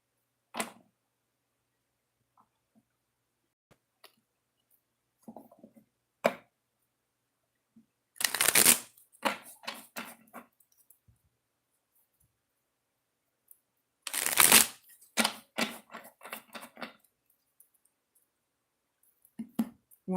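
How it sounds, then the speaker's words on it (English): An oracle card deck is shuffled in sparse bursts, with two loud riffling rushes of cards between scattered soft clicks and taps, and long quiet gaps in between. "Got a couple more shuffles with the other deck"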